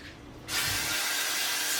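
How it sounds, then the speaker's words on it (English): Pam cooking spray sprays onto a pan on a stove top during meal prep, a sudden close, steady broadband hiss that starts after a brief pause and holds continuously to the end. "Spray the pan."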